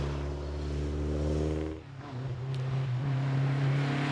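Alpine sports cars race flat out on a winding road during the Tour Auto 2015 rally, with loud, close engine drone that drops off sharply and then returns with a rising rev as another car pulls away.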